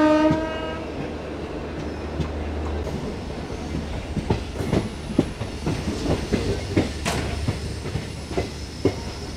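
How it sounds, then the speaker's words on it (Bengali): A Kolkata to Digha train departs with a loud, sustained horn blast at the start, followed by the rolling clatter and rhythmic clicking of wheels on rails as it gathers pace. "কলকাতা থেকে সঠিক টাইমে ট্রেনটা ছেড়ে দিল।"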